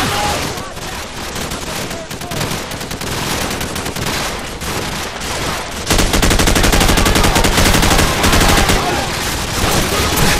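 Dense Call of Duty 4: Modern Warfare gunfire rattles without pause, rapid automatic bursts that grow louder and more intense midway, with voices partly buried in the din.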